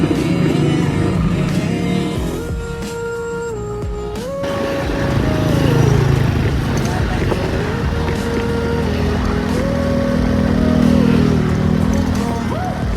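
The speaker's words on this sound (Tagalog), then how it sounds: "Di ko pinagsisihan ang pag-angkas sa motorsiklo." A motorcycle engine revs and shifts through gears while riding, pitch rising and dropping repeatedly, loud and close with wind rumble.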